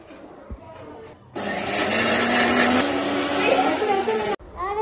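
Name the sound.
mixer grinder blending onion for paneer gravy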